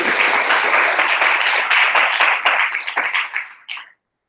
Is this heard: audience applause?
yes